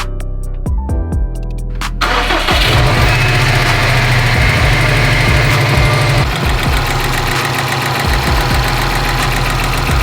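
A Subaru STI engine cranks with a few sharp clicks, then catches and runs roughly, with a loud, uneven knocking clatter throughout.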